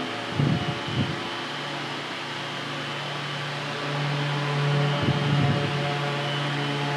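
A 16-inch BLDC solar table fan running and oscillating gives a steady whirring hum with broadband airflow noise, a low motor tone that swells slightly as the head sweeps, with a few faint knocks near the start.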